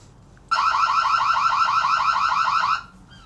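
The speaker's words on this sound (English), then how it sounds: "I think we also have an alarm setting." A boat's power monitor sets off its alarm: one steady, loud electronic tone of about two seconds that pulses quickly and evenly, starts abruptly and cuts off cleanly, over a quiet background with no talk.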